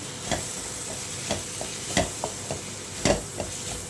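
Tiny shrimp stirred with masala and salt in a pan, a spatula scraping and tapping every half second or so over a continuous soft sizzle.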